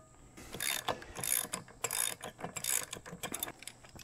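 Ratcheting clicks come in bursts of several seconds as a propeller nut is turned loose by hand on a 2019 Mercury ProXS 115 outboard, close and clear with no talk.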